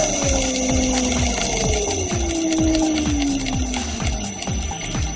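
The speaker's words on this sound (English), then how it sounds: "Just pan around and show you the motor running." A 4-pole electric motor runs on an inverter at 50 Hz, near 1400 RPM, giving a steady electric whine with a high tonal hum and a rapid regular ticking pulse, alone and continuous.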